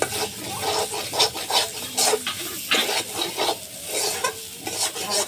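Spoon stirring lentil paste frying in a pan, repeated scraping strokes over a soft sizzle, close and fairly loud without talk.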